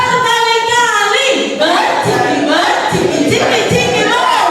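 An audience in a classroom or hall session claps together, a dense, loud, continuous wash of hand claps mixed with voices and chatter throughout.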